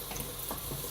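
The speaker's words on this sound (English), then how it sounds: "the onions are starting to go very golden brown, so I don't want to leave them too much longer before they start to catch" Onions fry in a pan for a student lentil curry, turning golden brown; a steady close sizzle with faint stirring scrapes runs throughout, with no voices.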